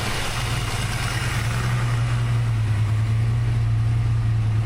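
A freshly built Ford 363 engine with Holley Smart Coil ignition idles steadily up close, its low, even rumble holding constant with no throttle blips and no voices.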